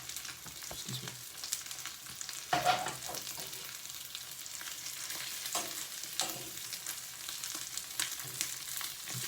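Cheesy rice and vegetable slices sear in a hot pan with a steady broadband sizzle, broken by a few louder bursts and scrapes as the food is shifted.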